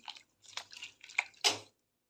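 A few soft wet plops and splashes of blanched spinach leaves dropped into a pot of cold fridge water, in short bursts with a louder splash near the end.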